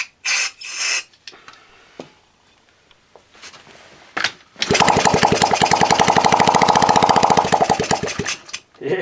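A 1970 Honda Z50 small motorcycle engine being coaxed to start on brake cleaner: a few loud kicks and thumps, then the engine catches and runs with a rapid, steady putter for several seconds, close and loud.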